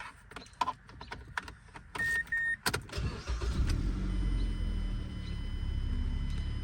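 A 2010 Mazda 3 engine starting after a valve cover gasket replacement, preceded by clicks and key sounds, then the engine catches and settles into a steady low idle.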